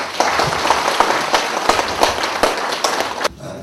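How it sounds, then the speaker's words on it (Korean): Lively applause from a seated audience greeting the county governor as he enters a Gochang county public event, steady dense clapping with a few sharper claps, cutting off near the end. "군수님께서 입장하시고 계십니다. 큰 박수로 맞이해 주시기 바랍니다."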